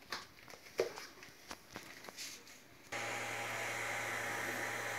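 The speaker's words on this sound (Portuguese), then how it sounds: "O barulho da fonte, da ventoinha da fonte." An Anet A8 Plus 3D printer's power supply fan switches on after a few scattered knocks and handling sounds, then runs as a steady, fairly loud whir with a low electrical hum, holding constant until the end.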